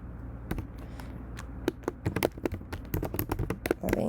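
Fingers type on a computer keyboard in a quiet room, a run of irregular sharp clicks that grows faster and denser toward the end.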